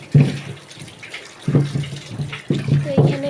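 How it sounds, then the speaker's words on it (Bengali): Local potatoes are washed under running water: steady close water flow with repeated knocks and splashes as the potatoes are rubbed and rolled, in several bursts over about three seconds. "সকালবেলা আমি একটু আলু ধুয়ে নিচ্ছি"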